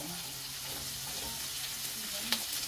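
String beans (sitaw) sauté in a pan with a steady, close sizzle and frying crackle. A clink of a utensil is heard near the end as the beans are stirred.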